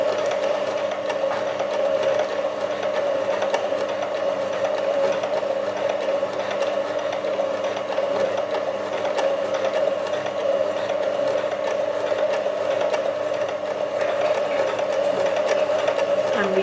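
A basic household sewing machine runs steadily while stitching the hem edge of a pair of pants, a continuous close whirring buzz with no breaks.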